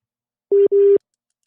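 A telephone busy signal sounds on a radio call-in line after a caller drops: two steady, clean tones in quick succession, loud and alone against silence.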